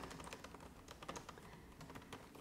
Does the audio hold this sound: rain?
no